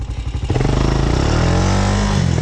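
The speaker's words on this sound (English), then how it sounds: "Little wheelies never hurt nobody, so I'm gonna do one real quick." A Honda Recon ATV engine revs hard for a wheelie near a creek, its rough, chugging idle rising into a loud, sustained rev that stays up close.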